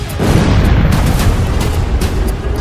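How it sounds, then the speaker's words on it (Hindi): A Russian missile strike on a city in Ukraine, heard as a loud, dense rumble of booms with a sharp blast near the start and scattered cracks later, continuous and alone. "रूस की फौज मिसाइलों पर"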